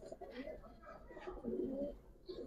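Soft, low cooing of Giribaz and racer pigeons kept for sale, several throaty coos close by and fairly quiet, with faint voices in the background.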